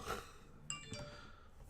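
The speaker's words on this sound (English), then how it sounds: "My phone won't stop going off." Mobile phone notification chimes ring out as a few short, bright pings, one sharper tone standing out midway, over a low steady background.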